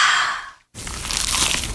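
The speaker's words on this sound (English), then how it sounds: "Is that the sound of an ooey gooey cheesy crunchy slice of P-I-Z-Z-A?" A crunchy bite into a cheesy pizza slice: a brief gap of silence, then a loud, close, crackling crunch that carries on with gritty chewing texture, heard alone.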